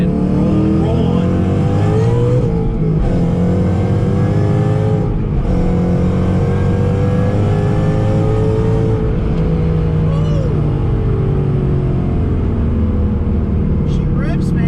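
A 750HP Roush supercharged Mustang GT pulls hard in second gear from a roll, its loud engine rising steadily in pitch with a dip or two as it builds speed, heard from inside with a voice briefly over it.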